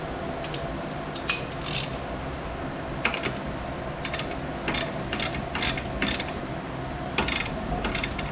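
Three 16mm knuckle bolts on a 2008 Dodge Avenger rear hub being tightened with a ratchet, with bursts of quick close clicking and short pauses between runs.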